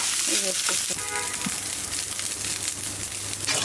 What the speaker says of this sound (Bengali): কালকের একটু ভাত ছিল সেই ভাত হলো একটু ভেজে রাখি